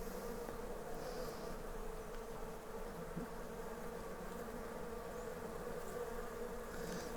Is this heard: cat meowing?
no